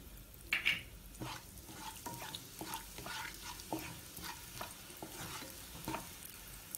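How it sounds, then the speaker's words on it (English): Hing (asafoetida) and cumin sizzle in three to four tablespoons of hot oil, a soft, steady frying crackle with irregular stirring clicks and scrapes, fairly quiet and close, with no talking. "Now 3-4 tablespoon of oil, little bit of hing or asafoetida, 1/2 a teaspoon of cumin"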